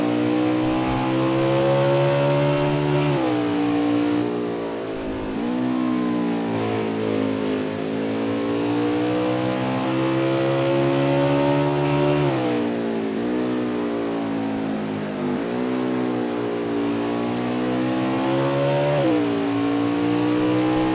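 Onboard sound from a Winston Cup stock car racing at Canadian Tire, its V8 engine roaring loud and close, rising through the gears and dropping as it lifts for corners, then pulling hard again.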